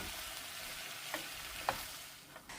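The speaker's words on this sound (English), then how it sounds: "I don't want to burn it, but I do want it to saute and break down." Chopped onions and tomato sautéing in a pan for chicken tikka masala sauce, a quiet, steady sizzle with a couple of brief scrapes from stirring.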